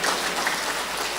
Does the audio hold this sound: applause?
yes